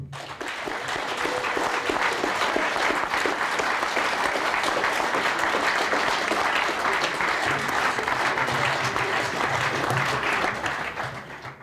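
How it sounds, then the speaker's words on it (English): Sustained applause from an audience at an evening gathering after a slideshow, dense and steady for about eleven seconds before tapering off at the end, with a few voices faintly mixed in. "well-deserved round of applause"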